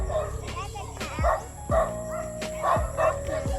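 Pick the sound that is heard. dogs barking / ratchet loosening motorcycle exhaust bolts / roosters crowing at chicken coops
dogs barking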